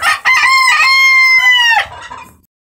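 A rooster crows loudly and close by at a coop of Brahma and Polish chickens, giving one long, drawn-out crow that rises and then trails off, with no voices.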